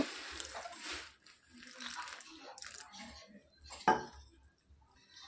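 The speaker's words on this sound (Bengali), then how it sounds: "এবার আমি জল দিয়ে ভালোভাবে বাটারটাকে মেখে নেব" Batter for potato spring rolls being mixed with water by hand in a bowl, giving soft wet squelching and stirring with occasional clinks of the bowl, near and moderately quiet, with one sharp knock partway through.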